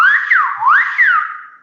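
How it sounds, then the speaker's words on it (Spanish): A single whistled word, 'guayé', in Silbo Gomero whistled language: one loud, clear whistle sweeping smoothly up and down in pitch several times, heard alone with no voices. "guayé, que es silbado"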